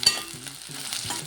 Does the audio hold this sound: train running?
no